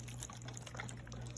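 Water is poured into cups while soup is being made, a short continuous splashing trickle heard close up and alone, with a steady low hum underneath.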